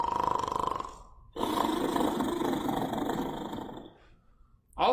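A voice imitates loud, exaggerated snoring: two long, rough, roaring breaths, close and strong, with a short pause between them.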